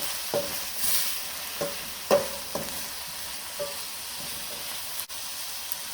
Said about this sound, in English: So we're going to stir that around for a bit